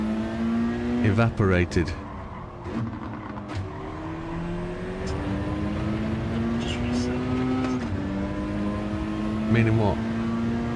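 A race car engine in a sim racing game drones and shifts pitch beneath a voice, with engine notes rising and falling as the car accelerates.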